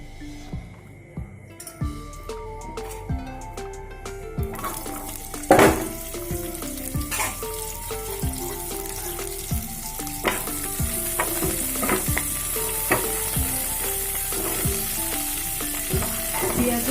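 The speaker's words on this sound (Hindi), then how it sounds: "पियाज कैप्सिकम को टिके फ्राई करनबे आउ मशरूम को भी टिके फ्राई करनबे" Onion and capsicum sizzle in a pan while being stirred for a mushroom-paneer dish, a steady frying hiss growing louder over time, punctuated by repeated clinks and scrapes of a spatula against the pan.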